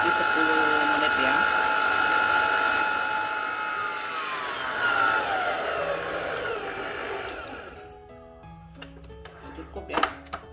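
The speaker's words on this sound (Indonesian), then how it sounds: "Telurnya udah masuk semua, kita kocok lagi sampai kurang lebih 10 menit ya." Electric hand mixer beating eggs into batter for an economical milk layer cake, a steady close whine with mechanical rattle that runs loud for about eight seconds, then stops, leaving quiet kitchen clatter and a few small knocks.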